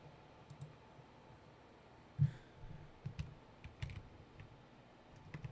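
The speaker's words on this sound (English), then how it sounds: "y'all don't have to hear my loud ass typing" Quiet typing on a computer keyboard, a scattered series of soft key clicks and a few sharper taps at an irregular pace over a low background hum, with no voices.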